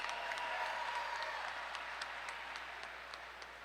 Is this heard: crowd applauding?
yes